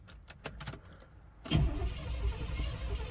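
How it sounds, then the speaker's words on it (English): A 1994 Chevy Blazer K5 with a suspected blown head gasket or intake manifold fault, cold-started: a few quiet clicks, then the engine catches abruptly and settles into a loud, rough idle. "It's a very cold start. So we're gonna crank this thing up."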